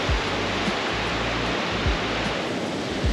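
A waterfall pours near an old mill sluice in Newry, Maine, a loud, unbroken roar of rushing water close by, with a few low bumps of wind.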